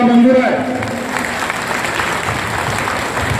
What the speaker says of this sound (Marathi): आता टाळ्या वाजून स्वागत करा